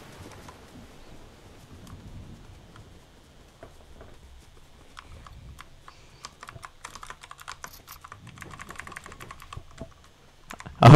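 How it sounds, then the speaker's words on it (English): Clicky keyboard typing, irregular bursts of keystrokes that grow busier and louder toward the end, close up with no talking. "I hope you guys can hear my very loud keyboard."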